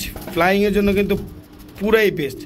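Shadel racer pigeon, a male, cooing twice in throaty rolling bursts, close and clear, with someone talking over the calls.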